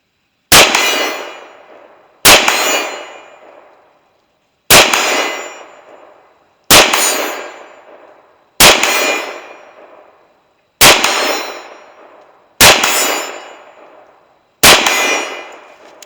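Eight rifle shots from an SKS carbine, each answered by a sharp ringing clang from a 1x2 foot steel target about 45 to 50 yards out, spaced roughly two seconds apart with decaying metallic tails.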